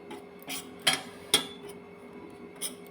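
Sesame powder, chili powder, salt and turmeric being stirred together with a metal spoon in a bowl, a few sparse clinks and scrapes, close and fairly quiet with no talk.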